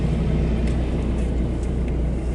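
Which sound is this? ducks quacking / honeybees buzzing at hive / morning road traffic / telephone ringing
morning road traffic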